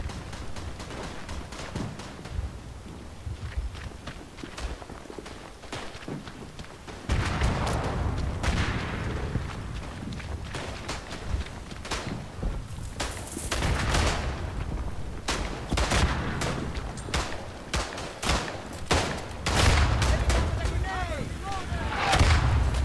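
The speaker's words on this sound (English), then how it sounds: "That's a lot of artillery." Artillery fire in the First World War shooter Verdun, Flanders map: heavy booms and rolling explosions, some distant and some close and loud, mixed with scattered gunfire, with a voice talking at times.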